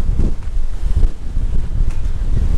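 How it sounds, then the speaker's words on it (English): Strong wind buffets the microphone outdoors beside a motorhome, a loud, continuous low roar with gusting surges and no speech. "It's a bit windy."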